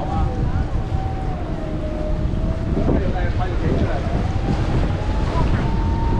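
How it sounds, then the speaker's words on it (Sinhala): A boat moves nearby on the open sea during a whale-watching trip, heard as a low engine rumble and rushing water, heavily buffeted by wind on the microphone. People talk excitedly over it. "අයියෝ මේ බෝට් යනවා නේ ඒකට ළඟටම යනවා අර"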